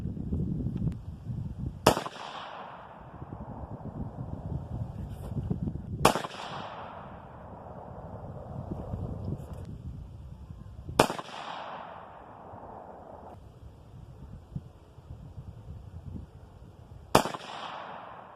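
.22-250 rifle shots ring out one at a time, four sharp loud cracks spaced several seconds apart, each trailing into a brief echo over outdoor background noise.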